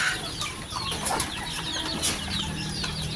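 Chickens and young chicks, including Maclean Sweater birds and black chicks, in an open-air yard at morning feeding, clucking and peeping continuously with some wing flapping.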